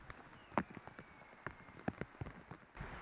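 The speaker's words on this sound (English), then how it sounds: "Oh, you see the rain. It's coming in hard now." Rain hits hard at an outdoor disc golf tournament final in Berlin. It makes a steady hiss with scattered sharp drops and taps close by, and no talk over it.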